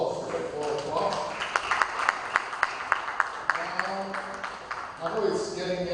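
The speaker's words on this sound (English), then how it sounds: "Another round of applause for Prof." Conference attendees at an African One Health and biosecurity meeting applaud a professor, a patter of clapping with sharp individual claps standing out in a steady rhythm, while people talk over it.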